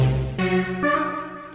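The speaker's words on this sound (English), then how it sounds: "Or maybe Hypersaw 3." Hypersaw 3 preset on the Citrus synthesizer in FL Studio plays a short run of bright, buzzy sawtooth chords, changing a few times in quick succession, with no talk.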